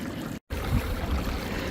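Water runs steadily into a gold prospecting sluice at Mill Creek in Highlands, California, a close, continuous rushing hiss broken by a brief dropout.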